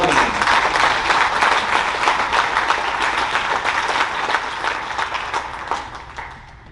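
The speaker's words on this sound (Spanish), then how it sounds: "Denle un aplauso al Señor." A church congregation applauds the Lord in a sustained burst of clapping that is strong at first and gradually thins toward the end.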